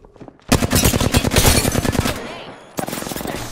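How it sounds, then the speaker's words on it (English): Rapid automatic gunfire from enemies in Apex Legends, a loud, dense burst of shots lasting nearly two seconds, a brief pause, then another volley, close and dominant. "They're shooting at me."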